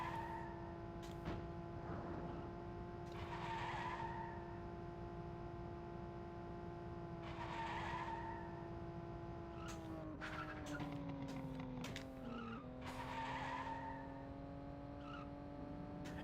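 Race car in the Nintendo 64 game Cruis'n World, a steady engine drone with repeated tire squeals and skids coming in bursts, getting busier and choppier toward the end, with no talking.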